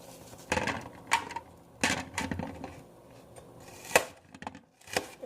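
A knife chops an onion into bite-sized pieces on a cutting board, giving several sharp, separate knocks at irregular intervals with brief quiet gaps between them. The sound is close and moderately loud.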